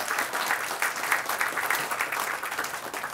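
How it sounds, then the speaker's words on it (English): Audience applause for the Todd Beamer High School Jazz band at a city Flag Day ceremony, a dense, even stretch of many people clapping at steady volume throughout. "Please give them a round of applause."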